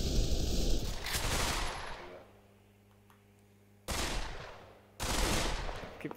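Bursts of loud automatic gunfire from a VR shooting game on an HTC Vive, three separate volleys broken by a short lull with a faint tone, harsh and close, with no talking.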